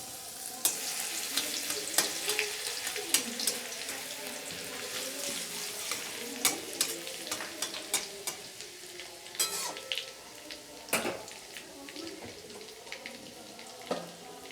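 Four garlic cloves fry in hot oil seasoned with nigella seeds, a soft sizzle under intermittent clicks and scrapes of stirring, fairly quiet and close, with sharper utensil knocks near the end.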